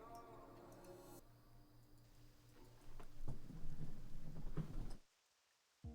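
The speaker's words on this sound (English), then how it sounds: "I do like the rain vibe though." Steady rain hisses through a World of Warcraft arena duel in Season of Discovery, a low thunder rumble swelling in the middle with game tones and clicks layered over it, before the sound cuts out near the end.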